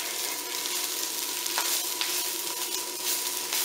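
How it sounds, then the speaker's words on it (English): Bacon sizzles in a frying pan with its own fat, alongside kale, producing a dense, steady crackle and hiss with small bursts of popping. "Let's add our bacon back in."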